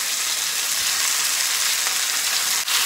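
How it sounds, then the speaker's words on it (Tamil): Chicken pieces mixed with bone and salt cook in hot oil for a Tamil non-veg lunch, giving a loud, dense, continuous frying hiss close up, steady throughout with no talking. "எண்ணெயிலேயே கொஞ்ச நேரம் சிக்கன் நல்லா வேகட்டும்."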